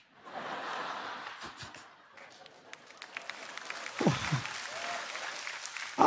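Applause from a church congregation at a sermon on prayer, a moderate wash of clapping that swells and fades, with scattered laughter and voices mixed in.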